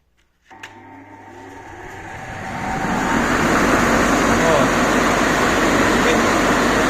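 A small 220V drying fan switches on with a click and spins up, its airy whoosh rising steadily over a few seconds to a loud, constant broadband rush.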